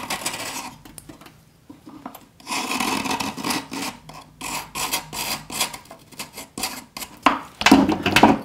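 A pouring channel is scraped into a cuttlefish bone mould for silver casting, giving close, rhythmic rasping strokes with brief pauses and no talk.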